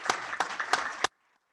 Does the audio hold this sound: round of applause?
yes